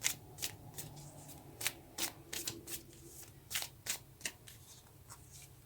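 Tarot cards shuffled and drawn by hand in a quiet room, with soft repeated riffling and flicking strokes in irregular bursts, close and faint, with no talking.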